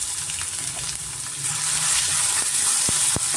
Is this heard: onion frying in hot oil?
yes